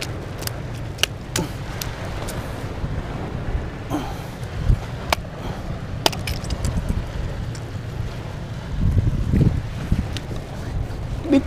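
Strong wind gusts over open water on Manila Bay, buffeting the microphone with a continuous low rumble, mixed with the hum of a boat and scattered sharp knocks and clicks.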